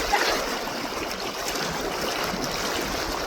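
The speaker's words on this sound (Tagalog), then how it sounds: "medyo malakas na yung agos" A strong river current rushes past during a crossing, a steady broad wash of flowing water with no pauses, loud and close.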